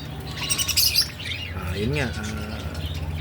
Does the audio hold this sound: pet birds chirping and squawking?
yes